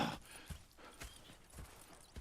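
Horses walking with soft, evenly spaced hoof clops on a path in Red Dead Redemption 2, fairly quiet with low background ambience and no talk.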